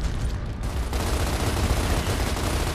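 Dense, continuous gunfire from a Gears of War Ultimate Edition firefight, pistol shots blending into a loud, unbroken barrage with no clear gaps between rounds.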